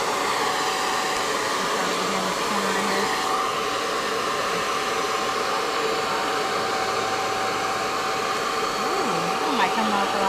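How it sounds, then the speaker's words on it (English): A hair dryer blows steadily at close range to heat and loosen tint film on a car's side window, a constant whooshing drone that runs throughout with faint background voices. "We're gonna get our blow dryer in."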